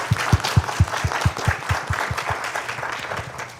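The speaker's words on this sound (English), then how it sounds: "let's give him a big round of applause" A seminar audience at a talk on the Austin housing market breaks into applause, with one nearby person's sharp, evenly spaced claps standing out over a softer, fuller spread of clapping from the room.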